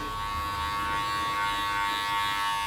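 Steady electric hair clippers buzzing continuously at close range while cutting hair in a skin fade, a constant motorized hum with a faint scratchy texture, no talking.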